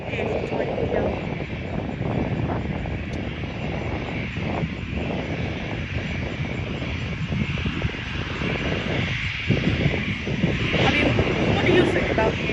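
A Frontier Airlines Airbus A321 at Norfolk International Airport gives a steady, loud engine roar throughout, with broadband rumble and wind buffeting, while people talk over it.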